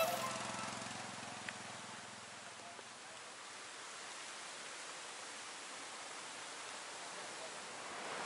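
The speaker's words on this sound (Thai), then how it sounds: "ก็เดินมาถึงบริเวณ น้ำตกแม่กำปองแล้วนะฮะ" Mae Kampong waterfall in Thailand during the rainy season gives a steady, broad hiss of rushing water that fills the whole span evenly at moderate distance.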